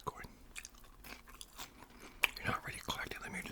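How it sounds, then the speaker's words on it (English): Crunchy Lee's Famous Recipe fried chicken is bitten and chewed close to the mic, giving a run of crisp crackling crunches, with a soft voice talking at times. "Very crunchy chicken, by the way, real crunchy."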